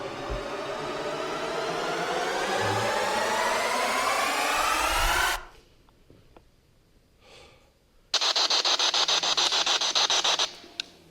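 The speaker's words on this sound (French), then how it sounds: "Je sais pas si vous l'avez bien entendu le bruit de moteur." Engine noise from a military vehicle heard inside a dark tunnel in a game, a loud droning rumble that cuts off abruptly, followed by a quiet stretch and then a harsh, buzzy burst.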